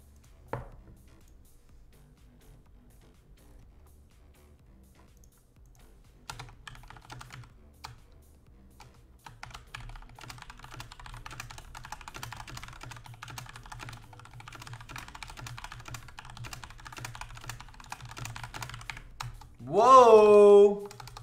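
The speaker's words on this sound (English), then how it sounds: "Whoa, you hear that? I'm a typewriter, baby." Rapid typing on a computer keyboard clatters on steadily for about fifteen seconds after a quiet start, close and fairly soft, and a brief voice-like sound rises near the end.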